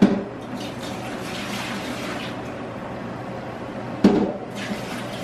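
Tap water running steadily into a large cooking pot for boiling potatoes in a home kitchen, a continuous broadband rush with a brief louder splash near the end.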